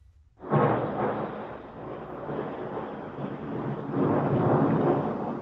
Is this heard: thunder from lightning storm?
yes